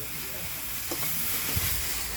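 Steady hiss and crackle of yira leaves stir-frying in a hot pan, with faint scraping stirs now and then; no talking.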